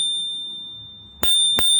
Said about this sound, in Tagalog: Ito namang maliit na trigger para sa bell.